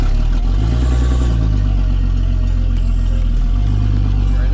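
A Nissan S13 drift car with an RB engine revs at full throttle, a loud, steady roar with rising and falling engine pitch and some mechanical clatter running the whole time, with no talking.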